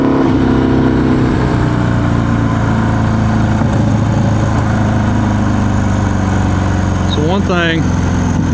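A bagger motorcycle engine runs at a steady loud drone while riding fast on Messler Cruise Tech tires, with a brief rev rising near the end and someone talking over it.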